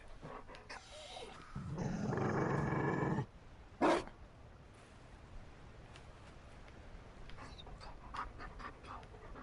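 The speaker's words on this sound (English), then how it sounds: "You found a dog. They don't breed Mabari in Olay." A Mabari war dog in Dragon Age: Inquisition pants in one loud rough burst, followed by a short sharp huff, then quieter breathy sounds trailing off.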